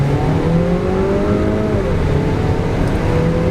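A Volkswagen Jetta S with a 1.7 liter engine pulls hard in sport mode, its engine droning loudly from inside the cabin with a rising pitch that shifts as it accelerates, with no talking.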